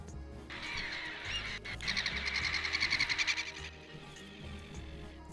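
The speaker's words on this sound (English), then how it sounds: "It's just a lot of gull sounds." Gulls call continuously over a low background hum, a loud rhythmic series of repeated squawking notes in the middle, with more scattered cries before and after.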